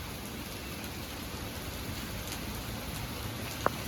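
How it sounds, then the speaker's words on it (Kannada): Heavy rain pours down during a strong wind, heard as a steady, dense hiss that holds evenly throughout, with one brief sharp tap near the end. "ಸೊ ಮಳೆ ಅಂತೂ ಸಿಕ್ಕಾಪಟ್ಟೆ ಬರ್ತಾಯಿದೆ,"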